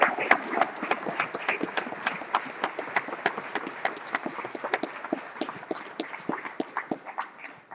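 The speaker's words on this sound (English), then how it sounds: "if we could give everyone a round of applause for enjoying" Sparse, uneven hand claps from a small audience at a Republican state party chairman candidate debate in Cobb County, Georgia, sharp individual claps in a loose, thinning rhythm across the whole stretch.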